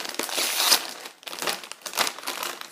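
Doritos chip bag crinkled up close in a quiet room, three crisp bursts of rustling plastic separated by brief pauses.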